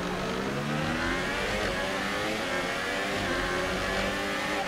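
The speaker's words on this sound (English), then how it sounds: "There's definitely a noise from the engine" In the F1 2018 racing game, a Formula One car engine screams at high revs with a steady, buzzing whine that rises and shifts through the gears, continuous and loud, with no talking.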